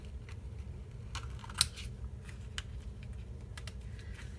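Paper is cut with scissors at a scrapbooking table, giving faint, scattered snipping clicks over a low background hum.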